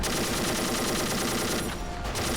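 Anti-tank gun firing at a tank in a World War II battle video game, heard as a dense, continuous roar of loud gunfire and explosions with no pauses.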